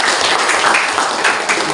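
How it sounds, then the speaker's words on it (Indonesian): Applause from students in a classroom during a lesson, a brief burst of steady clapping from a group, fairly loud and continuous, with a voice mixed in. "Oke, beri aplaus dulu."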